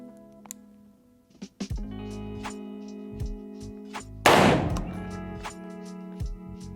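Shots fired at a target 15 yards away, heard as a series of sharp, separate reports with one very loud close blast near the middle, over a steady hum.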